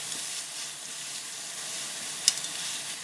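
Zucchini chicken burger patties fry in a pan with a steady, fairly loud sizzle and one sharp clink near the end, with no one speaking.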